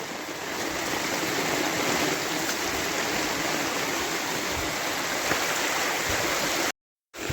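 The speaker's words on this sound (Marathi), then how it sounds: "बघता जाताना सुद्धा इतकं पाणी आहे" A stream of water runs steadily beside a monsoon jungle trek path at Korigad fort, a continuous close rushing wash that holds even throughout before cutting off near the end.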